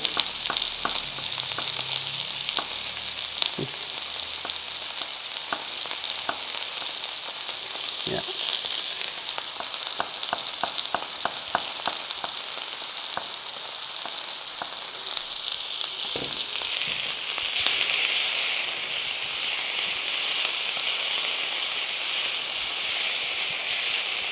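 Meat fries in a pan for Bodrum çökertme kebab, giving a loud, steady hiss and sizzle that runs throughout, broken by occasional light clicks of a utensil.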